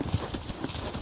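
A 14-year-old Kentucky Mountain Horse gelding, a gaited trail horse, canters outdoors, its hooves giving a quick rhythmic clip-clop of several close footfalls.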